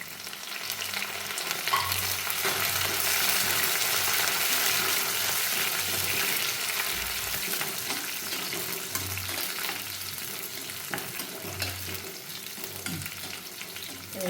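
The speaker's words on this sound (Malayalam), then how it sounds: "നമുക്ക് 10 അല്ലി വെളുത്തുള്ളിയാണ് ഇട്ടിരിക്കുന്നത്. ചെറിയ ഫ്ലെയിമിലിട്ട് അതൊന്ന് ചൂടായി വരുന്നവരെ ഇളക്കണം." Ten garlic cloves with curry leaves sizzle in oil over a low flame for a dried mango pickle, a steady crackling fry with rhythmic scraping stirs sounding close and fairly loud throughout.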